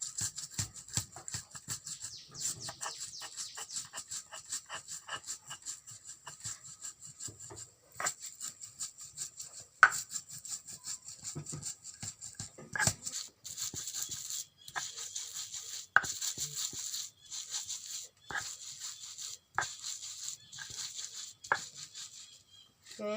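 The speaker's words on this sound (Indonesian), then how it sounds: "Bik Tengah haluskan ikan teri seperti ini." Dried anchovies (ikan teri) are ground fine for sambal terasi, likely in a mortar, giving a close, steady rasping scrape with intermittent sharper knocks, heard alone without talk.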